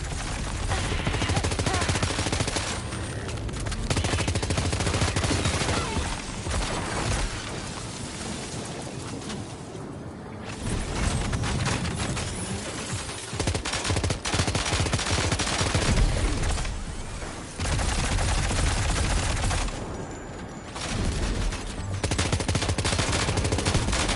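Dense, sustained gunfire in long continuous bursts, loud and roaring like a heavy fusillade, with only brief pauses between volleys and no speech heard.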